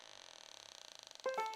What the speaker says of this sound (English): The cafe door swung open with a loud clang, startling everyone inside.